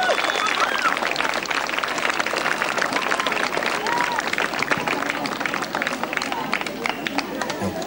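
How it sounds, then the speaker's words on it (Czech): Sustained applause from a large outdoor audience of parents and children at a fairy-tale forest festival in Strážnice, a dense, even patter of many hands lasting throughout with scattered voices underneath. "Velký potlesk, prosím, pro sponzory celého tohoto dnešního pohádkového lesa."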